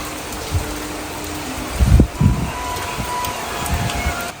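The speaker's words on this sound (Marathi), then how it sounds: "आता जबरदस्त पाऊस बापरे म्हणजे कमी होतच नाहीये" A steady roar of heavy rain pours down throughout, with a few louder low thumps and gusty rumbles near the middle.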